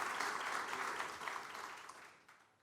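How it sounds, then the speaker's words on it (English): Scattered clapping from a small group at a city council public works committee meeting, moderately close and gradually fading away over a couple of seconds. "I'll just wait for Terry's applause to die down."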